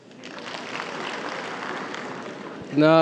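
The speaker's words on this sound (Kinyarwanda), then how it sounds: "mwamuhaye amashyi" A comedy show audience at a Rwandan Gen Z comedy event breaks into sustained applause, a dense wash of clapping that swells and holds, then an amplified voice cuts in at the end.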